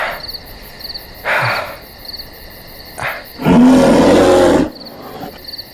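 A bear roars from a Hollywood monster-bear horror film: a loud, sustained growling roar of about a second, preceded by a few shorter, rougher bursts against a steady background hum.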